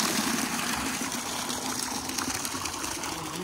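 Strong, continuous rush of water gushing from a fire hose at a high flow rate, a steady dense hiss and splash with no pauses and no voices.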